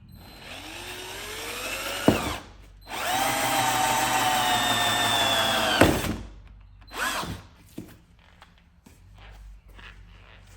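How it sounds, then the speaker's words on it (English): A power drill whines up and runs in two sustained bursts of a few seconds each, drilling holes in a car's front bumper for parking sensors, then stops, followed by light clicks and handling noises. "Let's start drilling."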